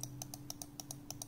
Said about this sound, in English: Here's how the left click sounds